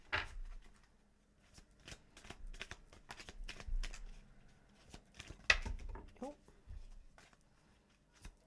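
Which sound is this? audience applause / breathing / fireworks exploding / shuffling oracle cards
shuffling oracle cards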